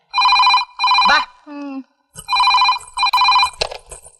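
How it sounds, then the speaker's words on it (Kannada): A telephone bell rings in repeated loud, close bursts with short gaps between them, and a voice speaks briefly between the rings. "ಫೋನು"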